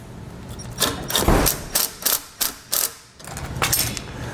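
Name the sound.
ratchet with 10mm socket tightening bolts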